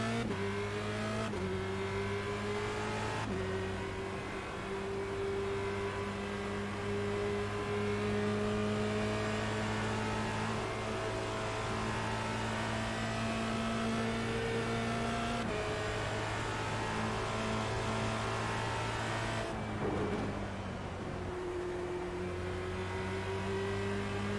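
Formula Renault 2.0 race car lapping Oulton Park, its engine droning loudly and continuously from onboard, with pitch climbing through gears and abrupt drops at shifts, steady the whole way through.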